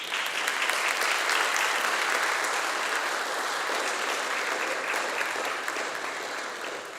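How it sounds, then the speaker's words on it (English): Sustained applause from a commissioning ceremony audience honoring graduates' families, a dense steady clapping wash lasting throughout and tapering slightly at the end. "give them a big round of applause"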